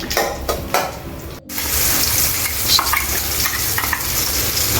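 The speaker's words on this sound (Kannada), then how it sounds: "ಹಾಕೋರೆ ಇವಾಗ ಜೀರಿಗೆ ಹಾಕ್ತವ್ರೆ. ಹಿಂಗೆ ಒಗ್ಗರಣೆ ಹಾಕಿ" Cumin seeds are dropped into hot oil for tempering in a home kitchen. After a brief quiet gap, a loud, continuous crackling sizzle bursts out and carries on steadily.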